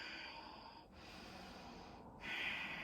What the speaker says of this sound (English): Breathing where you are.